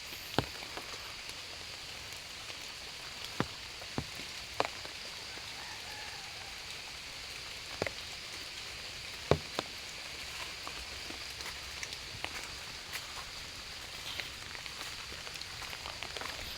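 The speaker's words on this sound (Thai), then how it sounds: "ฝนตกตอนเช้า นะ เช้ามืดเลยนะครับ" Early-morning rain before dawn on a morning walk: a soft, steady hiss of falling rain with scattered sharp drip ticks, faint and continuous, and no voices.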